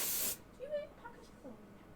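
An airbrush sprays paint on a model tank in a short, sharp hissing burst that cuts off abruptly, followed by quiet talking.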